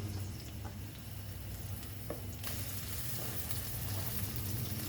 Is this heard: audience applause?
no